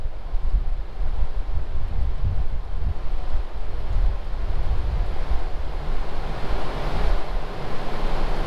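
A subwoofer submerged in water plays a 40 hertz tone, giving a loud, continuous low rumble with a broad watery, wind-like wash over it and no talking.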